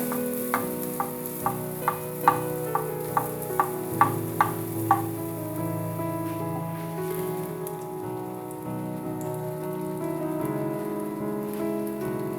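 Battered eggplant fritters deep frying in plenty of hot oil, a steady close bubbling sizzle, with soft clicks at the start as slices drop into the pan, under light background music.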